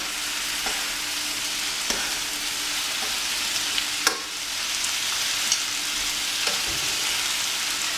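Courgette ribbons frying in a pan, a constant close sizzle with occasional soft knocks and scrapes as they are turned and stirred.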